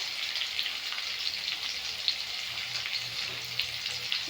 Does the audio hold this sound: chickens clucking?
no